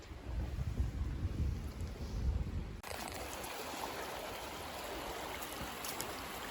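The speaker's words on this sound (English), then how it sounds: "I could listen to this stream for hours. It's just a really gentle babbling brook." Gentle babbling brook running through woodland, a steady rushing water wash heard alone, fuller and rumbling at first, then a thinner, even trickle after a brief break.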